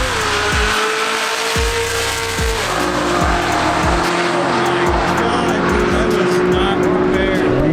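Boosted Ford Mustang roll racing, a loud engine climbing through repeated upshifts and roaring up close, with tire squeal, while a person talks over it.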